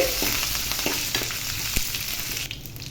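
Curry leaves and crushed spices crackle in a hot tempering, stirred with a few scraping strokes and pops, and the sizzle drops away near the end.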